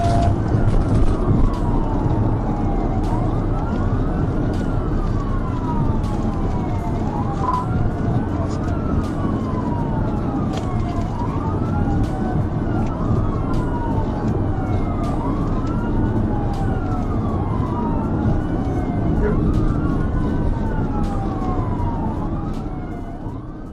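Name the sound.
police car siren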